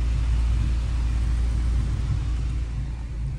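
A 9th-generation Honda Civic Si fitted with an aftermarket downpipe and exhaust rumbles steadily and loudly, a deep continuous low drone that holds even throughout with no talking.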